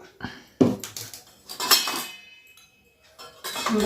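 A spoon works through spiced okra bhajji batter in a bowl with coriander powder mixed in, making intermittent clinks and scraping knocks against the bowl, close and fairly soft.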